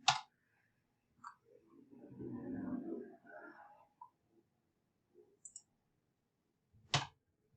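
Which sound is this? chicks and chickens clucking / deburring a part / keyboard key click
keyboard key click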